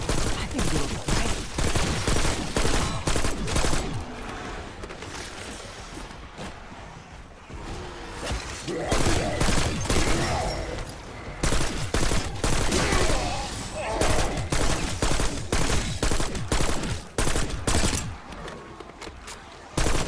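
Dense, near-continuous gunfire in the Black Ops 6 video game with a SWAT 5.56 rifle, loud rapid volleys with brief lulls throughout, with some speech faintly mixed in.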